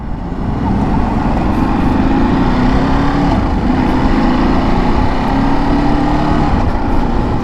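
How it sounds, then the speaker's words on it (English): A Ducati Desert X motorcycle engine runs continuously out on a ride, a loud, close, steady rumble with wind noise and no pauses. No one talks over it. "I like the sound of this bike."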